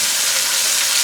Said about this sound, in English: Ooh, listen to that sizzle, y'all.